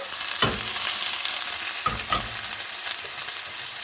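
Steak and potatoes frying in a pan, a steady sizzle with a couple of brief stirring scrapes near the start and middle.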